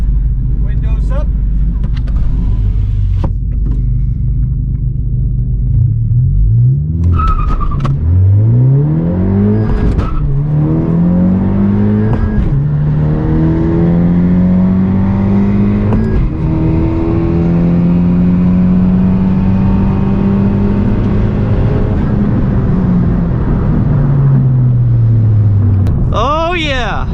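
A 10th-generation Honda Civic Si accelerates hard down a quarter-mile drag strip, its engine note climbing steadily through several gears with short dips at each shift. The run is loud, close and continuous, and the car is heard from inside with the windows up.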